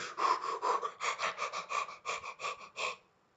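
A person's voice imitates a dog panting after a walk: about a dozen quick, short, breathy huffs in an even rhythm, close and fairly loud, then stopping abruptly.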